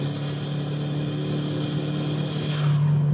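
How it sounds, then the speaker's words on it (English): A 20th anniversary edition Volkswagen Golf MK4 GTI runs with a steady engine drone and a thin, high turbo whistle held above it, then the tone drops away as the engine note shifts near the end. "So much turbo noise."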